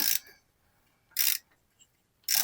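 An oil filter wrench works on a car's oil filter canister, giving three short, sharp metallic ratcheting bursts separated by near silence.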